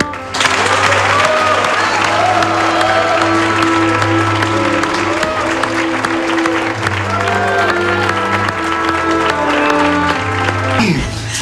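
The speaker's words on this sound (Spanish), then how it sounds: "démosle un fuerte aplauso al nuevo matrimonio Sandoval y Iturbide" Wedding guests applaud a newly married couple, a loud, sustained burst of clapping mixed with crowd cheering over swelling music, running about eleven seconds before cutting off abruptly.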